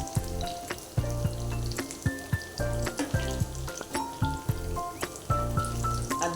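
Pieces of snakehead fish fry in hot oil for pickle, giving a continuous crackling sizzle under melodic background music.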